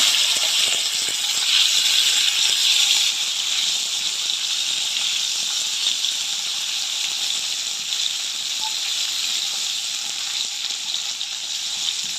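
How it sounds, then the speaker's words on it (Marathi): Cauliflower and potato fry in hot oil, a steady bright sizzle and hiss that holds evenly throughout with no talking. "तेल तापलेलं आहे, त्याच्यामध्ये हे आपण तळून घेणार आहोत।"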